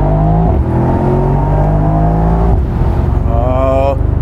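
A Mercedes-AMG SL63 engine revs hard and close, a loud continuous droning growl that rises in pitch and shifts through gears across the whole stretch.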